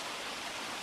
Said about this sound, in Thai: นี่เป็นเสียงน้ำตกนะครับเนาะ